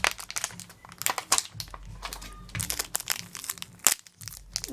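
Shopkins Season 3 toy packaging being pulled open where it is taped, with dense, close crinkling and crackling of plastic and a sharp tearing rip near the end.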